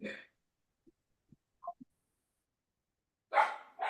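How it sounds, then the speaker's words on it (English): A dog barks during an online prayer meeting: a short close bark at the start, a few faint small sounds in the quiet middle, then two more loud barks near the end. "my dog is barking"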